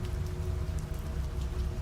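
Steady rain falls on a surface at night, a continuous dense patter with a low rumbling bed, fairly close and even in level throughout, with no voices.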